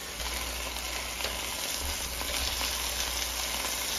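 Salisbury steak patties browning in an oily pan, a loud, steady, close sizzle that crackles without a break.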